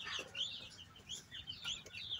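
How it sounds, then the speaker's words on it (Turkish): Backyard hens murmur and cluck softly in a small hobby garden coop, faint, fairly distant calls rising and falling over quiet outdoor background. "Tavukları görüyorsunuz zaten."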